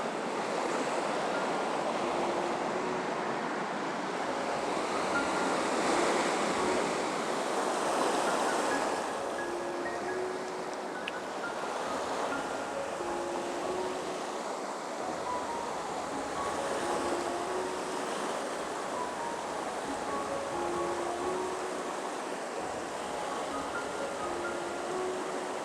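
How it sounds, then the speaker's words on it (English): A rushing river flows steadily in the open, a broad continuous roar with gusts of wind buffeting the microphone, loud and unbroken throughout. "I hope you can hear me above all this river"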